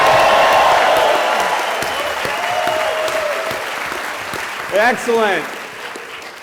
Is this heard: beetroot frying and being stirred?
no